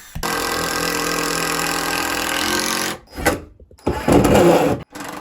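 A power drill whirs steadily as it drives pocket hole screws into wood during a DIY bathroom subfloor build, a loud continuous run that stops abruptly, followed by two shorter bursts.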